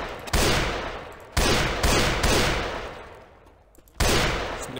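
Sniper rifle fire in the zombie shooter game Left 4 Dead 2, with four loud, sharp shots spaced about a second apart, each followed by a long decaying echo, and no talk.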